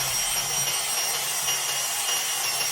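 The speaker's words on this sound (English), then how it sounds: "I'm going to take the bandsaw, go horizontal, and go the opposite way and cut these relief cuts out" A bandsaw cuts angled relief cuts in metal for a Harley-Davidson Sportster dirtbike build, giving a steady, loud, hissing grind that continues without a break for the whole stretch.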